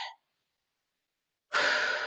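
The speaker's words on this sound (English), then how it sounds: "Take a nice deep breath." One long, steady deep inhale or exhale during a dumbbell circuit workout, close and breathy, alone after a brief silence.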